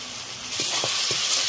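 Kashmiri chili goes into hot oil while cooking desi chicken, and a bright, steady sizzle swells loudly, broken by a few soft knocks of stirring.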